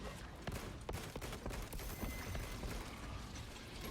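Heavy bolt pistol fire in Warhammer 40k: Space Marine 2, a dense run of sharp, loud shots and impacts stacked over constant game combat noise for the whole stretch, with no clear gaps between bursts.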